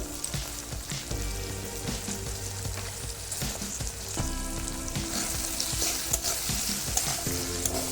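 Ground turmeric and salt frying in oil in a pan for pasta, a steady close sizzle with clinks and scrapes of stirring, no talking.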